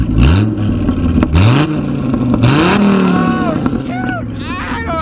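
A Dodge Viper engine revs in several sharp bursts, loud and close, each rising then dropping back, with people talking and exclaiming over it.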